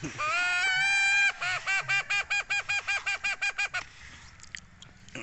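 A stray chicken calls up close: one long drawn-out cry, then a rapid, evenly spaced run of about a dozen short, honking calls that fades into quieter rustling.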